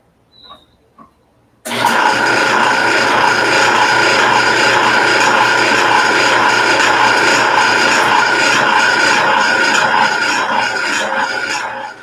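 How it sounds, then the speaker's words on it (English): Power drill boring through long flanges on a homemade router table, starting abruptly after a couple of faint clicks and running as one loud, continuous whine for about ten seconds. "All I'm doing is drilling a hole through both of these long flanges so that I can run my bolt through there."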